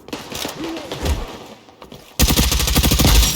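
Rapid automatic gunfire in a first-person shooter, a dense burst of close, loud shots in quick succession after a quieter stretch of scattered shots and movement.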